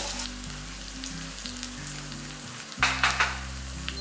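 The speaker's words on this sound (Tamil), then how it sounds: "பூண்டு வந்து நல்லா பொரியட்டும்" Crushed garlic cloves fry in hot oil for a country chicken curry, giving a steady close sizzle with a brief stir and a louder burst of crackling near the end.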